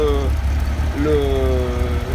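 Alfa Romeo 2600 engine fitted with Weber carburettors runs steadily at idle, a loud, continuous low rumble with shifting harmonic tones throughout.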